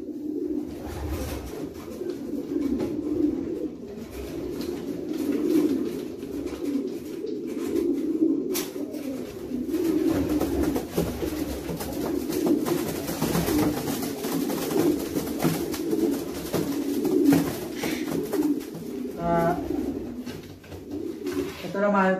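Pigeons coo steadily in a loft holding a checkered breeder hen kept for long and medium distance racing, soft repeated throaty calls running throughout with someone talking over them.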